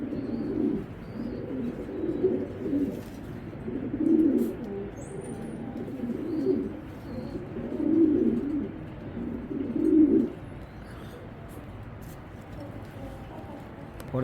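An imported Belgian racing pigeon coos in low, throaty bursts that recur roughly every two seconds, close and moderately loud over a steady background hum.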